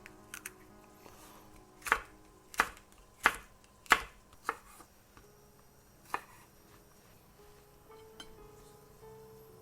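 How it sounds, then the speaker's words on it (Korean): Thin slicing of mini bell peppers with a knife on a cutting board, a run of sharp, crisp knife taps at an uneven pace, close and clear, trailing off into a few scattered taps. "미니 피망은요, 얇게 썰겠습니다."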